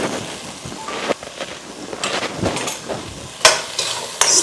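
Sliced, peeled potato is stirred into a pan of curry made with canned sardines, with a low sizzle under irregular scraping and clinking of the spoon against the pan, close by.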